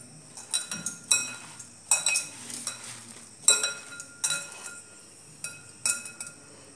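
Spoon scraping and clinking in a bowl as a vegetable kofta mixture is stirred together with maida and besan, a run of irregular near taps and scrapes with brief pauses, no voices.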